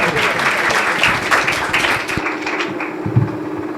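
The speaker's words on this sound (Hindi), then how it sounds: "जोरदार तालियों में खुदा के बंदा को वेलकम करें।" A church congregation at a Sunday service gives loud, dense applause to welcome a speaker, a continuous clapping that thins toward the end with a few scattered claps.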